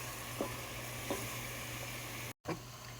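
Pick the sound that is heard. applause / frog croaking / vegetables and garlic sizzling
vegetables and garlic sizzling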